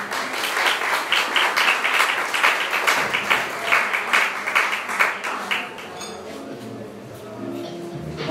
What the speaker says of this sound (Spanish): Un fuerte aplauso, por favor, para Fernando Cañete